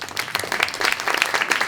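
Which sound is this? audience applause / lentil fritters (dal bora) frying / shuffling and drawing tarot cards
audience applause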